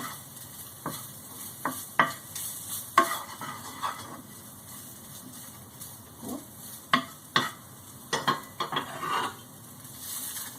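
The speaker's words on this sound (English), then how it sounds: "It really helps you be able to kind of cut into the meat and get it broken down." Steak meat for a Philly cheesesteak sizzles in a hot pan while a metal spatula scrapes and chops through it, giving sharp irregular clacks and scrapes over a steady frying hiss, close and fairly loud.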